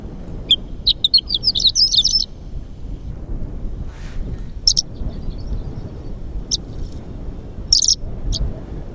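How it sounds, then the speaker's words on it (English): Horned larks giving short high chirping calls in scattered bursts, fairly near, over steady wind rumble outdoors at a Utah dinosaur dig site. "Maybe they are horned larks."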